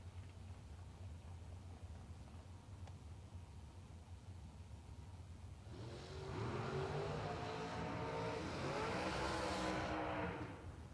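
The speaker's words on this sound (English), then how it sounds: "All right, dragsters turning the corner." Drag racing dragsters roar through a corner at the RAD Torque Systems Spring Fling at Galot, the engine noise swelling from a distant hum into a loud, sustained howl over steady background noise.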